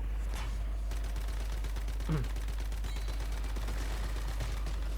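Rapid bursts of gunfire from the video game Once Human, a dense crackle of shots running throughout over a steady low hum, with a voice talking briefly partway through.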